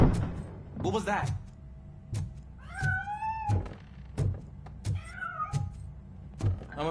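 Cat meowing in the Robocop: Rogue City video game, two drawn-out rising-falling meows close by, set among scattered thuds and clanks, with a voice speaking briefly.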